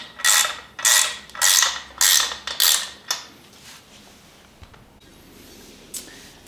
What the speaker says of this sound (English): you're gonna take a 7/16 deep socket, and then you're gonna take a wrench, and you're gonna take those 2 guys off